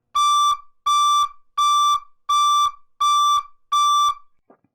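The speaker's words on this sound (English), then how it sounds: "We will demonstrate the loudness of the alarm now." Six loud, steady electronic beeps from a forklift truck backup alarm in an even rhythm, each about half a second long with short gaps, sounding alone and close.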